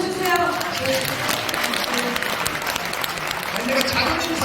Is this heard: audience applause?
yes